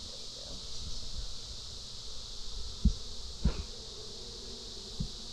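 Honey bees at an open hive give off a faint, steady buzzing drone at a distance, with a few soft thuds and handling knocks against it.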